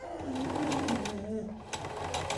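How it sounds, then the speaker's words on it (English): A sewing machine stitches through a fabric face mask at the elastic, running in a steady continuous whir close by while a person talks over it. "now can I start sewing?"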